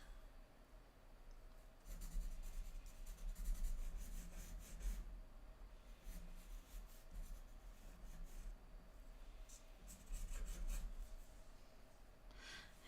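Pencil scratching and rubbing across paper, close and steady, in bursts with brief pauses and a quiet room hum underneath.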